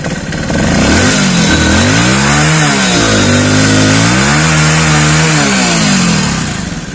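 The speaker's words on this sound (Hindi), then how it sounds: "बाइक पूरी तरीके से स्टार्ट हो गई है" A Hero BS6 motorcycle engine, just started after a starting problem, runs loud and close, its pitch rising and falling as the throttle is blipped several times.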